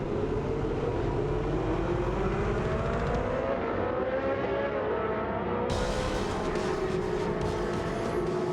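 Ferrari Challenge race cars at Imola roar off the start in Trofeo Pirelli Race 2, engines droning steadily with rising pitch sweeps as the pack accelerates, loud and continuous.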